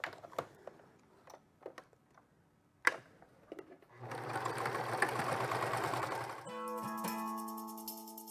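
Sewing machine stitching fabric strips together, starting after a few light clicks and taps, then running in a steady, close, moderately loud whir for a few seconds before shifting to a slower, tonal mechanical hum.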